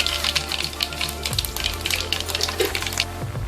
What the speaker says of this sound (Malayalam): എണ്ണ ചൂടായിട്ടുണ്ട്. നമുക്ക് 1 സ്പൂൺ കടുക് ചേർത്ത് കൊടുക്കാം.